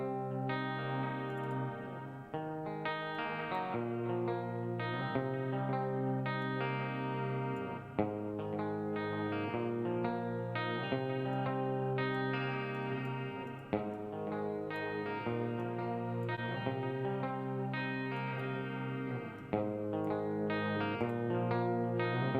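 Electric guitar with a chorus effect in a pop-punk mix inside Cubase, a shimmering, slightly detuned chordal part that plays steadily and loud for the whole stretch with rhythmic strums, no voices.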